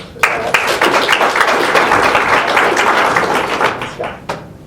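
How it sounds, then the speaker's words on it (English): Audience applause at a talk on connecting citizens and policy, a dense burst of clapping that swells quickly, holds steady for several seconds and then tapers off. "put a round of applause for that"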